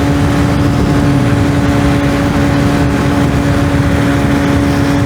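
A 125cc motorcycle cruising at about 100 km/h, fitted with a big sprocket, gives a steady, loud engine drone mixed with heavy wind rush, holding an even note throughout with no talk.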